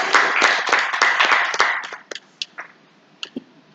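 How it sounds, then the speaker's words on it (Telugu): A church congregation claps for a newly married couple, a loud burst of many hands that thins out after two seconds into a few scattered, isolated claps. "అందరూ బట్టి గట్టిగా మనం చప్పట్లు కొడదాం."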